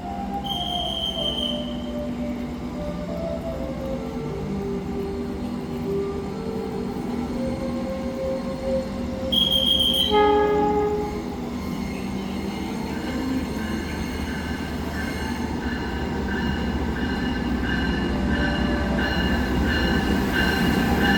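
The KA Gumarang train, hauled by a CC206 locomotive, pulls into a station with a continuous rumble of wagons and wheels, and high steel wheel squeals rise and fall throughout.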